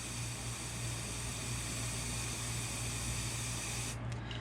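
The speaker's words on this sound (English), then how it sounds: "spray it onto the surface." Tan spray paint from an aerosol can hisses steadily onto a surface for hydro dipping, a continuous close-up spray lasting several seconds at an even level, with a low hum underneath.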